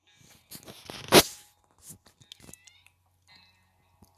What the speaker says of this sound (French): en fait, c'est un chat, mais le chat il rapporte rien.